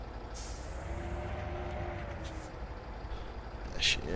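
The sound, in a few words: lorry air brake in Spintires: MudRunner video game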